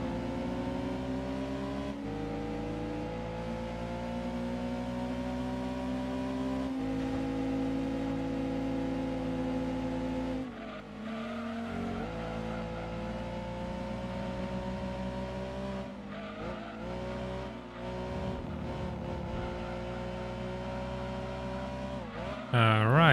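A Fiat 500 in Gran Turismo running flat out at top speed, giving a steady, droning engine note held for a long stretch, then shifting and wavering as it brakes and turns. A voice talks over it at times.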